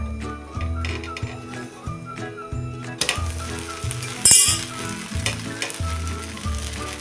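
A flipped rice-flour amboli pancake roasts on a pan, with a soft, steady sizzle under spatula scrapes and a few clinks of utensils against the pan, close by and not very loud.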